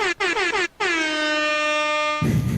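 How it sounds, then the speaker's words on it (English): An air horn sound effect gives several quick blasts, then one long sustained blare, loud and close, ending in a burst of noise. "That's the worst air horn I've ever seen."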